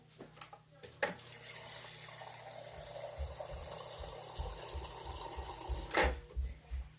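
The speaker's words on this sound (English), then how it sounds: "So I'm going to add in a little bit of water also." Water pours steadily into a pot of beef broth and chili for several seconds, a continuous splashing rush with a soft low gurgle, fairly close, with a few clunks at the start and end.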